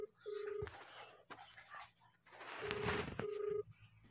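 A cartoon telephone rings as a call is placed, producing electronic ring tones in repeated bursts, with a voice speaking between them.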